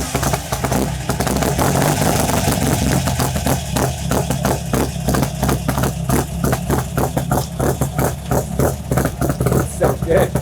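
A rare car's engine idles steadily nearby at a Cars and Coffee meet, with a rough, rhythmic pulsing, running continuously for the whole stretch.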